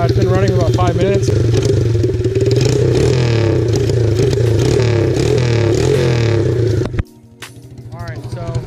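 A pitbike engine with a fully straight-pipe exhaust and no muffler idles loudly and up close with a steady, rapid, buzzy pulse, then briefly cuts and settles back to a lower, quieter idle near the end.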